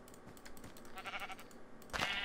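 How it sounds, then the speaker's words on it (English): A sheep in the video game Minecraft gives short hurt and death bleats as it is killed, heard alongside rapid keyboard-like clicking, fairly quiet and close. "I killed a sheep."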